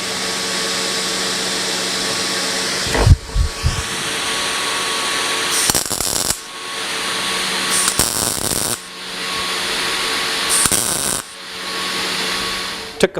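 Quick tack welds on thin gauge sheet metal backed by a copper heat sink: several short, harsh crackling bursts of a few seconds each break through a steady background hum, with brief pauses between them.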